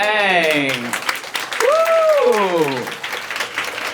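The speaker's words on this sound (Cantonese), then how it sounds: "呢個時候我哋以你嘅掌聲有請第一位嘅參賽者黃卓欣，俾啲掌聲有請。" Audience applause at a Hong Kong inter-school singing contest, a continuous patter of many hands clapping under a loud voice speaking over a microphone.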